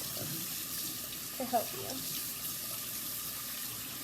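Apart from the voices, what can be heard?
running tap water while washing mint leaves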